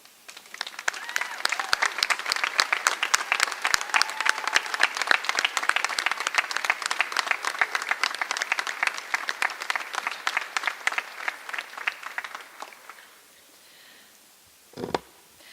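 Warm, sustained applause fills a hall at a spring nursing pinning ceremony, with many hands clapping steadily for about thirteen seconds before dying away, followed by a short thump.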